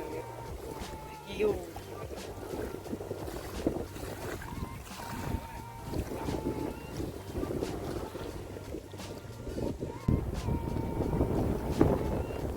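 Strong wind gusts across a lake whip up waves, a steady roaring rush with buffeting against the microphone and water sloshing beneath, continuous and fairly loud throughout.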